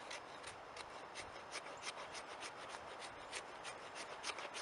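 A knife spine scrapes shavings off fatwood in wet conditions, making quick repeated rasping strokes in a steady rhythm, close and fairly quiet, with no voices.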